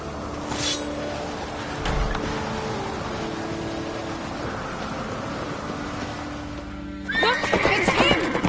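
In The Witcher 3: Wild Hunt, a horse whinnies near the start, followed by steady galloping hoofbeats and a busy background wash; a louder burst of action sounds comes near the end.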